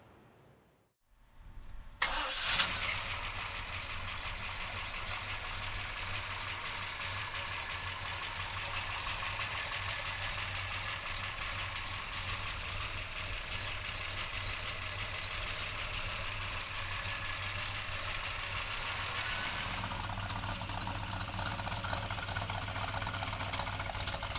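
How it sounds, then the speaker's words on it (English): A 1971 Chevrolet Chevelle with a 454 V8 cranks and fires up, then settles into a loud, steady, rumbling idle that continues unbroken for over twenty seconds with no one speaking. "We're gonna take a look at the 454 under the hood."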